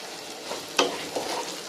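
Ivy gourd deep frying in oil, a close steady sizzle and bubbling with a few louder crackling bursts and faint stirring clinks.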